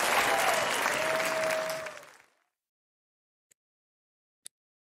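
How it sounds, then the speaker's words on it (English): Applause plays as a stream alert sound effect, a burst of crowd clapping and cheering that fades out after about two seconds, followed by silence and two tiny faint clicks. "Thanks for the claps."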